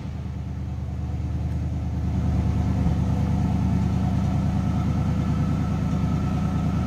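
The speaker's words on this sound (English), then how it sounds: "It is cold when I started it, so it's getting a little bit of a higher idle." A 1940 Mercury convertible street rod's engine sits at a cold-start high idle, a steady, close, rumbling drone with an even pulsing beat that swells slightly after the first two seconds and then holds with no talk.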